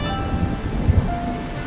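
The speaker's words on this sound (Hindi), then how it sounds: "बारिश बहुत ज्यादा तेज थी।" Heavy rain pours down as a dense, continuous hiss, with a couple of dull low thuds near the middle.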